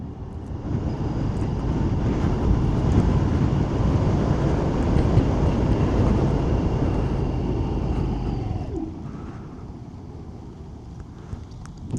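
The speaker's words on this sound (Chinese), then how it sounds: "好，全油门加速。" A SYM PE3 hybrid scooter accelerates at full throttle with a loud, sustained roar that mixes engine and wind noise, then drops off abruptly and leaves a quieter hum near the end.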